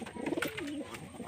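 A Giribaj pigeon, a Bengali tumbler breed, gives a short soft throaty coo that rises and falls over about a second, close by with no talking.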